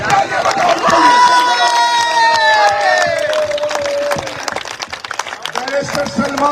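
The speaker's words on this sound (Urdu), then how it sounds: "تالیاں بجاؤ" Crowd at an outdoor political rally in Lahore cheering and shouting loudly, with whistles and voices rising over a dense roar, while a voice carries over the noise.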